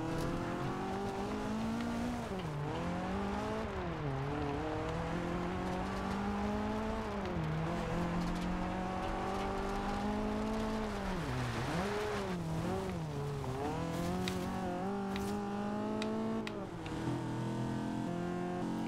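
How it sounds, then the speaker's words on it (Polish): Audi RS4 in the racing game Forza Horizon 2, its engine revving up and down in repeated sweeping pulls, a steady loud synthetic engine tone with rising and falling pitch throughout, no talking. "posłuchajmy, jak to auto brzmi"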